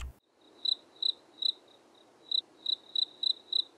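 Crickets chirping in short, evenly spaced bursts against a quiet background, about eight chirps with a brief pause in the middle.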